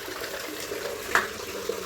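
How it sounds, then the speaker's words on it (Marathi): Water gushes from a pump pipe into a cattle shed to water the cows, making a soft, continuous splashing flow at moderate distance, with no speech. "आलं आहे पाणी बघू शकता"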